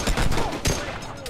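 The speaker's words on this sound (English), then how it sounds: "Oh, they're shooting at me." Gunfire in the combat game Arma 3 on the Mass Effect Tanoa mod, several loud sharp shots in quick succession with a burst near the start and another shot just after the midpoint.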